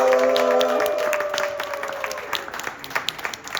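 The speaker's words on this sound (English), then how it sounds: "I want you guys to give a round of applause for the last comedian of our competition, Aureo!" A crowd at a comedy competition breaks into a round of applause for the final comedian: loud, sustained clapping from the start, with a tonal sound over it early on, thinning to scattered claps toward the end.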